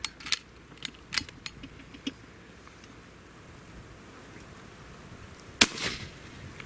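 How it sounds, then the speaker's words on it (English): An AEA 9mm air rifle fires over a chronograph, giving a few sharp, quiet pops spaced irregularly with near silence between, the last one loudest with a brief tail. "Okay, 3 shots just like we did with the pistol."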